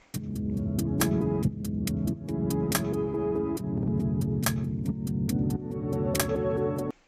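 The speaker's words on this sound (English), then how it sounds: "hear what my hi-hats sound like" Crisp programmed hi-hats tick in a fast, steady pattern of 16th and 8th notes with sharper accented hits, layered over a sustained chordal backing.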